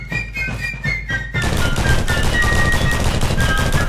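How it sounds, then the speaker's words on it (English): A gun fires a loud, sustained rapid burst of shots, continuous automatic-style fire running for several seconds without pause. "All right, Frank, fire that sweet son of your gun."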